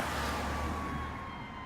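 A siren from an arriving ambulance or fire engine wails steadily at a car crash scene outside a house, a sustained tone over a broad rushing traffic and wind wash.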